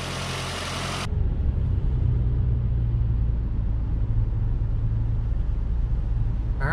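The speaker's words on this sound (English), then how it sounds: "Let's go ahead and take it for a drive" Nissan Rogue engine rumbling steadily while driving, just after a valve cover install, with a constant low drone and road noise following a brief louder burst at the start.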